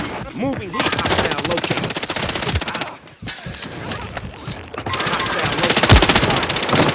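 Rapid automatic gunfire in the Call of Duty video game, long loud bursts broken by a brief pause, then another sustained burst with a heavy shot near the end, while a voice talks over the action.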